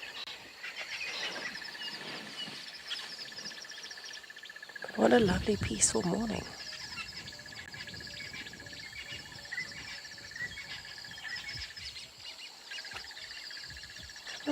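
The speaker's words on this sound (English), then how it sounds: "Well, listen to all of those birds." Many birds call from a drainage line fringe during a rainy-season sunrise safari, a steady layer of chirps and song throughout with a louder burst midway, while someone talks over them.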